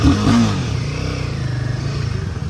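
A Royal Enfield 450 motorcycle engine, a 452 cc bike, idling close by with a steady, throbbing low rumble after a brief rev at the start.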